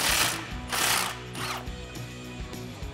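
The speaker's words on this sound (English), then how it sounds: "I'm going to use a 10mm socket and remove it from our frame." A 10mm socket on a ratchet loosens a brake line bracket bolt on a Jeep Wrangler frame, giving close, rapid clicking bursts with short pauses between strokes.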